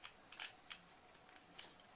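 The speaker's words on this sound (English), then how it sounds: "I'm going to using my paper scissors" Quick, crisp snips of paper scissors cutting through material, several short bursts in a loose rhythm, close and fairly quiet with no voices.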